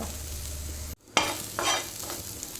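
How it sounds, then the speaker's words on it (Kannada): Grated coconut, turmeric, garlic and onion sizzle in a pan on a gas stove, with a low hiss broken by sharp stirring scrapes and bursts of frying crackle. "ಸ್ವಲ್ಪ ಕಾಯಿ ತುರಿ, ಅರಸಿನ, ಬೆಳ್ಳುಳ್ಳಿ ಹಾಗೂ ನೀರುಳ್ಳಿಯನ್ನು ಹಾಕಿದ್ದೇನೆ. ಇದನ್ನು ಸ್ವಲ್ಪ ಫ್ರೈ ಮಾಡ್ತೇನೆ."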